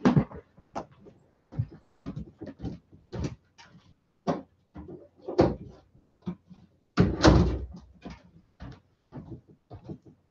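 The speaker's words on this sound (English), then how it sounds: "I'm going to shut the door so I don't bother him." A house door is shut, giving a series of sharp knocks and solid thuds of varying loudness, close by and separated by short quiet gaps.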